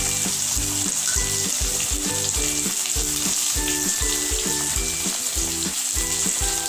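Steady, loud sizzling of onions sautéing in a hot pan, with a regular low pulsing beneath it and no talking.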